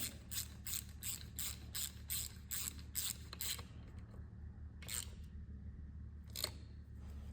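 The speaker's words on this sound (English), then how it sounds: "You want to put this on with a ratchet so you do not over tighten it." Ratchet clicking as a bolt is tightened on a Suzuki 9.9-15hp EFI outboard tiller, a fast run of crisp close clicks followed by a few slower, spaced single clicks over a low background hum.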